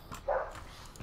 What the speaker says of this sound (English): now my dog is downstairs in the basement barking because he's really good at that